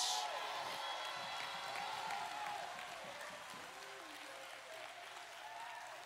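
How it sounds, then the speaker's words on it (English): Church congregation applauding and cheering in a large hall, a steady distant wash of clapping with scattered whoops that slowly fades over several seconds. "That's a nice applause."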